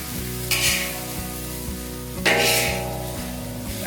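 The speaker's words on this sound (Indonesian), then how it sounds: "Kita aduk terus sampai rata." Serondeng, spiced grated coconut, sizzles steadily in a pan while a spatula scrapes and stirs it in regular strokes, with a couple of louder hissing surges; close and alone, no talking.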